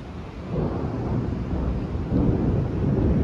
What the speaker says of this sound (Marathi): पहाडांमध्ये पाऊस येणं आणि इतके ढग विजा असणं